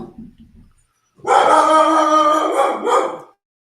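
A dog lets out a single long, loud, howling bark at close range, held for about two seconds after a brief bit of quieter sound.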